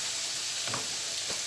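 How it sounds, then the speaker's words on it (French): Two slices of meat frying in a pan, giving a dense, steady sizzle close up with no talking. "On va mettre 2 tranches de viande, la faire frire à l'intérieur."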